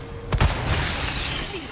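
A single sharp gunshot in the video game Resident Evil 4 Remake with a short rumbling tail, followed by low background game noise.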